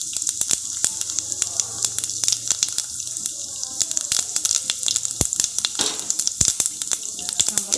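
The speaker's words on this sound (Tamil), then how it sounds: "கடுகு உளுந்து பொரிஞ்சதுக்கப்புறமா வெந்தயத்தை சேர்த்திக்கலாம்." Mustard seeds, urad dal and fenugreek fry in hot oil, giving a close, steady sizzle dotted with sharp popping crackles throughout.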